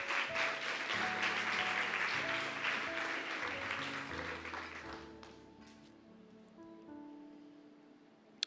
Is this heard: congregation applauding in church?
yes